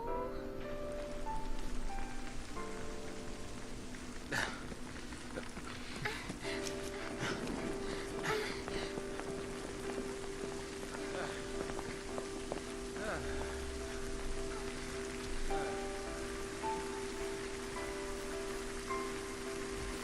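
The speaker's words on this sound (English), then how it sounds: "And now it's pouring rain." Heavy rain in Final Fantasy 13 pours steadily on a hard surface, a dense continuous patter with scattered louder drops and a faint tonal hum underneath.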